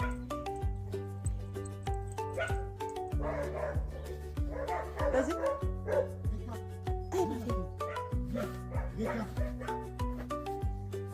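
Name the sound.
puppy barking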